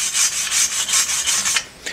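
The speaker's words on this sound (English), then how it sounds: "also need a bit of rubbing down. I got a bit of paint now, so I'm going to rub that down." Metal chain harrows being rubbed down by hand before painting, a close rhythmic rasping scrub repeating about every quarter second, alone.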